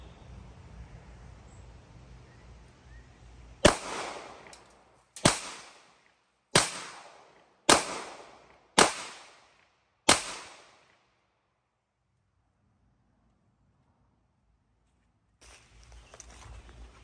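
Six sharp 9mm shots from a Taurus G3 pistol fired at 5 yards outdoors, evenly spaced about a second apart, each a loud crack with a short decay, followed by quiet.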